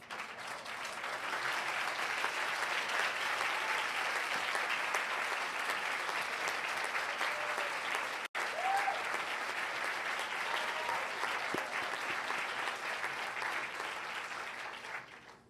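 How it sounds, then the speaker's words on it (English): Sustained applause from a large crowd at a graduation recognition ceremony fills the whole stretch, steady and broad, swelling in and holding with a brief break midway. "I'd like to ask each of the graduates to stand and applaud your loved ones, supporters, and teachers"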